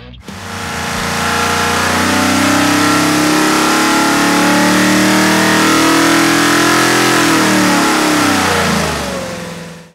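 A 427 cubic inch LSX engine on a dyno, set for turbo with low compression, revs hard and steadily for about ten seconds, a loud sustained roar that climbs slightly in pitch before cutting off.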